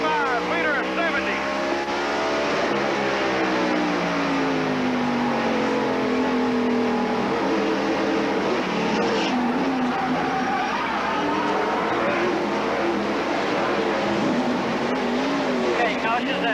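NASCAR race cars at Martinsville in the 1995 Hanes 500, a continuous loud engine drone with V8s revving up and down through the corners and overlapping cars passing close by throughout.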